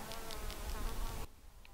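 Insects, called crickets or clapper bugs, buzz steadily and close by on a mountain hike around the Chain Lakes near Mount Baker, Washington, then the buzzing drops away abruptly near the end, with no talking.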